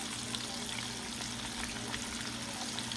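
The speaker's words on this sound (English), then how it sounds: "We'll continue frying" Steady, dense sizzling and bubbling of battered food frying in hot oil, constant and close, with no talking.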